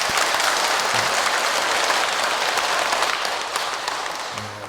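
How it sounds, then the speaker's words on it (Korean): Temple audience at a Lotus Sutra dharma talk clapping for the association president, a loud, dense burst of applause that carries on steadily and thins slightly toward the end. "이쁜 마음을 낸 우리 회장님께 박수 한번 치시죠"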